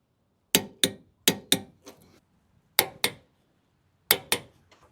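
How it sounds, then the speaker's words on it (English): A wrench works on hitch mounting bolts, giving sharp metallic clanks that come in quick pairs with short pauses between them, crisp and close against a quiet background. "So now you're going to tighten these 3 bolts down to 40 foot-pounds."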